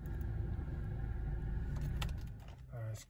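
A girlfriend's car idles and rolls as it pulls back in, a low steady engine rumble close by with a jangle of keys and small clicks, the motor fading near the end.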